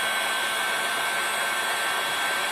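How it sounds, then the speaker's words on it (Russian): A technical heat gun blows a steady, loud, even whoosh of hot air while warming a women's ankle boot, running alone without any break. "Я использую технический фен для нагрева."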